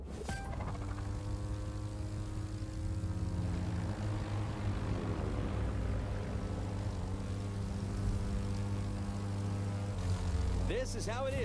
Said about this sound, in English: Okay, we're on planes now.